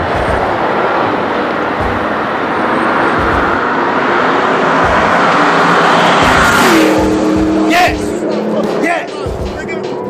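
Cars in an illegal street race in Compton: a loud engine roar that builds as the cars pass close by, then drops away. People talk over the noise throughout.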